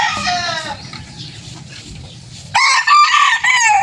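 Backyard chickens cluck and squawk close by, a hen's rough calls followed by louder, sharper, tonal clucking bursts near the end, with no talking.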